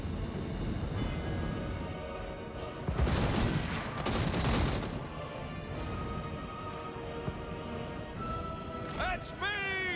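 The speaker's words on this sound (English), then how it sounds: "Hellblaster volley gun!" A Hellblaster volley gun fires in Total War: Warhammer, unleashing two dense rolling fusillades of overlapping blasts, loud and close, amid battle noise, with a sharp whistling effect near the end.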